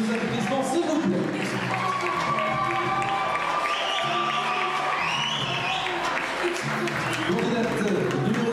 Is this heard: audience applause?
yes